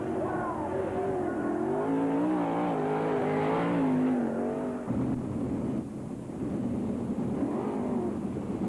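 Sprint-style race cars at an All Star Circuit of Champions Winternationals event in Gibsonton, Florida, roar steadily as a pack circles the track during a last chance race, engines rising and falling in pitch with a continuous loud drone throughout.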